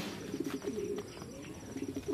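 Racing pigeons coo softly in a loft, low throaty burbling calls repeating in short bursts over a hissy background, with no speech.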